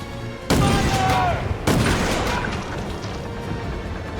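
Two loud ship cannon blasts in the video game Skull & Bones, each a sudden heavy boom followed by a rumbling, crackling decay, close and forceful with a shout in the mix.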